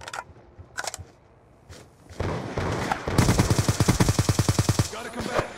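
Machine gun fire in a first-person shooter video game: scattered single shots give way to a long, loud, rapid burst, then a few more shots, with voices and game sounds around it.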